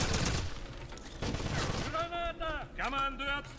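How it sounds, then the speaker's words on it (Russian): Two explosions go off almost together in the Wolfenstein video game, a dense burst of heavy blasts and crackling fire up close, followed by game characters' voices calling out over a fading rumble. "Обалденные два взрыва практически параллельно"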